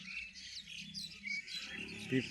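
Pigeons and other birds gathering to eat scattered rice, with a busy chorus of chirps and tweets at middle distance and a low undertone of cooing or murmuring voices.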